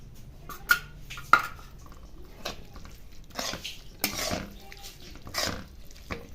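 A spoon or whisk knocks and scrapes against a bowl as a khoa and sugar mixture for carrot halwa is beaten, giving irregular close clatters and clinks with a couple of sharper knocks.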